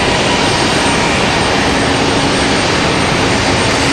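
Southwest Airlines Boeing 737-700 arriving at Raleigh-Durham airport at night, a steady broadband jet roar that stays loud and even throughout with no voices.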